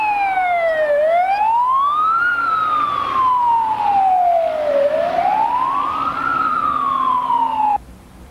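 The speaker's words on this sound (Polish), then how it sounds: "Pod blok numer 20 zajeżdżają wóz strażacki, karetka pogotowia i policja." Emergency vehicles (a fire engine, ambulance and police) arriving on Słowackiego Street in Wolsztyn, Poland, sound a loud, close siren that wails in slow rising and falling sweeps over faint traffic noise, then cuts off near the end.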